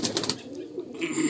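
A male white-eyed Malbai pigeon coos close by in a loft, a short low rolling burst over a soft background murmur of other birds.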